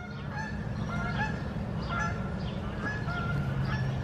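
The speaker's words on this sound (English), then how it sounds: "Canadian geese." Canada geese honking outdoors in a nature area, repeated moderately distant calls in an irregular rhythm over a low background hum.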